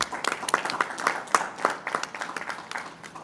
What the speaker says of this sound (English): I think a round of applause is...